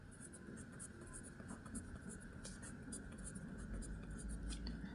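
Pen or chalk writing numbers during a Class 8 Hindi-language math lesson on cubes and cube roots, a steady scratchy stroking sound running throughout under faint room noise.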